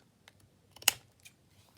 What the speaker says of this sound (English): I do think I will just get my material scissors and just trim the very edge off of there